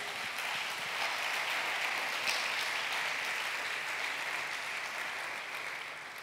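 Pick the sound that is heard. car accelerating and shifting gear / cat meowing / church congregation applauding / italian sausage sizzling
church congregation applauding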